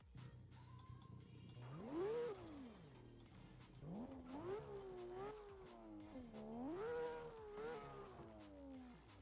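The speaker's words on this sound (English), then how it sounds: "Spartan Lord with a modded sound engine. We love to hear that." A modded engine in CarX Drift Racing Online rises and falls in pitch, revving up and dropping back several times in a whining, wavering tone, with no talk over it.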